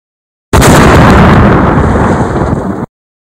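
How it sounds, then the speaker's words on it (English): A big cartoon explosion from an animated short with Peashooter and Snow Pea bursts in loud and sudden, then roars on for over two seconds before cutting off sharply. "The explosion could have killed us."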